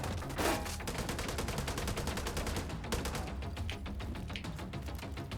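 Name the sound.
gunfire from a newly upgraded gun in The Division 2 video game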